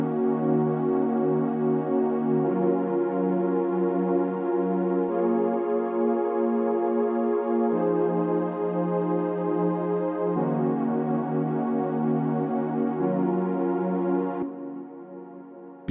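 A Logic Pro X ES2 analog-wave synth pad for a zouk, kizomba and afrobeats track plays alone, sustained chords shifting every few seconds in a steady, loud, even wash before fading at the end.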